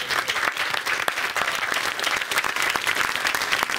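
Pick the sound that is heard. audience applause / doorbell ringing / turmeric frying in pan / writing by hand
audience applause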